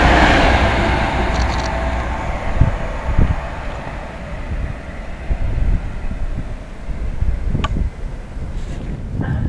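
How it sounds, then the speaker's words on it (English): A southbound Class 390 Pendolino electric train running through Nuneaton station, a loud continuous rumble with wind buffeting the microphone and a few brief higher rattles near the end. "Southbound Pendolino, 390."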